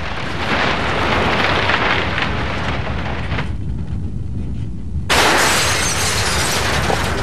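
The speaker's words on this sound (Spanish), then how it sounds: "Mampostería, tejas, letreros y vidrios, lo más peligroso de todo, caen estrellándose en el suelo" Masonry, roof tiles, signs and glass crash to the ground during an earthquake, a loud, continuous broadband roar of shattering debris that dips briefly mid-way before surging back even louder.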